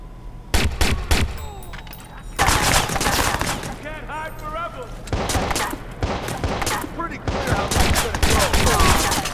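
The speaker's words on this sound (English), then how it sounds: "They're all trying to shoot us now" Police gunfire in the game Watch Dogs during a chase: bursts of rapid shots and fusillades crack loudly in clusters with brief gaps, over background game noise.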